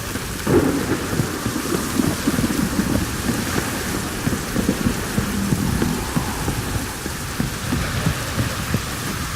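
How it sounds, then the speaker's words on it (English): Heavy rain pours steadily in The Witcher 3 video game while deep thunder rumbles underneath, a dense, loud storm wash with no voices. "This downpour's a bastard"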